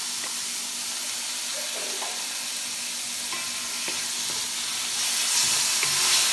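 Garlic frying in a pan, a steady soft sizzle with occasional stirring clicks, growing slightly louder toward the end, with no voices.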